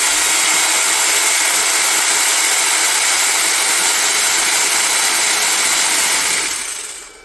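An old wood router running on a Livowalny power station, its motor a loud, steady high-pitched whine that holds for about six seconds before spinning down.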